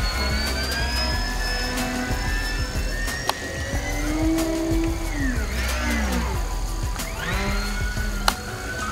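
An E-flite Beechcraft D18 RC model plane flies overhead, its electric motors giving a buzzing whine that rises and falls in pitch as it passes and turns, steady and fairly close.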